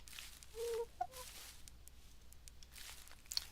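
A Minecraft chicken clucks a few short times early on, faint and close, followed by quiet ambient game sounds and occasional soft clicks.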